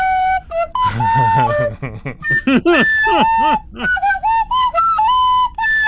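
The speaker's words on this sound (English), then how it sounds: "No, it's a penny whistle I bought on Amazon" A cheap penny whistle gives shrill, wavering notes and squeaky slides in rapid bursts. Its loud, uneven, rooster-like squawks continue for about six seconds, mixed with voice-like sounds.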